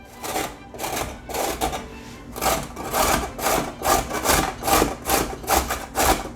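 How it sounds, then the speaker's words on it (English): Three medium-sized peeled carrots shredded on a grater, a steady series of about fourteen rhythmic rasping strokes, close and fairly loud, with no talking. "3 medium-sized carrots, and we will peel them, wash them, and now shred it"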